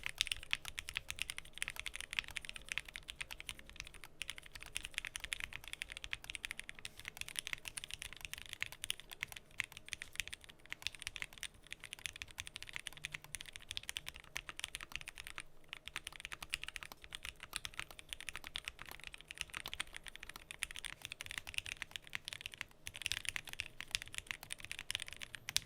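Continuous, even keystrokes on a Zoom65 V2.5 mechanical keyboard fitted with Gateron Milky Pro switches and configured with foam and an internal weight, close and fairly quiet, with no talking.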